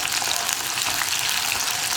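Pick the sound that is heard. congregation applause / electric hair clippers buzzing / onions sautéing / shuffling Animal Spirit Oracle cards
onions sautéing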